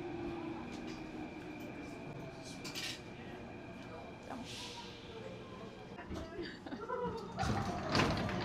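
An Athens metro train rumbles steadily underground, with a low continuous roar, a few metallic clinks and swells, and people talking faintly in the background.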